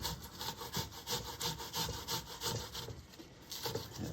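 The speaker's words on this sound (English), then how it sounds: "We're also going to grate an onion today." An onion is grated on a metal grater in a steady rhythm of rasping strokes, about two per second, close and continuous with no talking.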